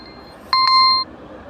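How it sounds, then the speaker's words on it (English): A timer alarm beeps twice in quick succession, then holds a steady electronic tone for about half a second before cutting off, fairly loud over a quiet room. "that was the alarm going off."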